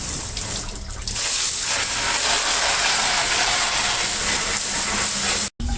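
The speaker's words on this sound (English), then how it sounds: "Get in there and hose this off really good." A hose sprays water steadily over filter grids inside a tank, a loud continuous rushing hiss that runs almost unbroken before cutting out briefly near the end.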